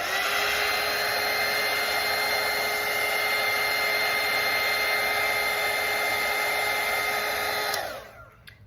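A hair dryer blowing steadily at full power to dry a watercolour painting, a loud even whooshing drone with a constant whine that runs alone for about eight seconds, then cuts off and winds down.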